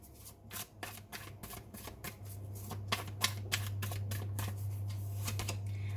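Tarot cards shuffled by hand in a run of quick, crisp riffling flutters, close and fairly soft, over a steady low hum.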